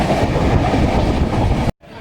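A train passes Khatpari station in a hilly area, a loud, steady roar of rolling wagons that fills the scene and then cuts off abruptly near the end.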